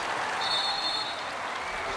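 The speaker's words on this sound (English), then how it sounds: "Standing ovation from this big crowd." A big basketball crowd gives a standing ovation, dense sustained clapping and cheering filling the arena evenly for the full two seconds.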